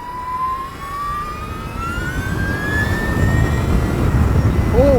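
An Energica Eva Ribelle RS electric motorcycle gives a loud, steady motor whine that climbs gradually in pitch while riding, over rushing wind roar, then thins out and cuts away near the end.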